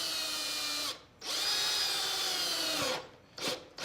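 A drill with a step bit boring slowly through a soft plastic scooter basket, whining close up in two long runs and a couple of brief bursts, with no talking.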